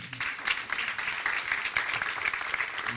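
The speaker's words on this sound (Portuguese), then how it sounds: "salva de palmas para ele" Audience applause during an interview event, a dense, steady patter of many hands clapping at moderate volume for about three seconds, with no one speaking over it.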